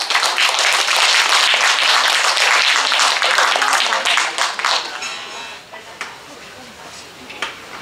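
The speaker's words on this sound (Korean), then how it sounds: "환영의 박수 부탁드립니다" Loud, dense applause from a literary festival audience welcoming a singer, strong at first then thinning into scattered claps over the last few seconds.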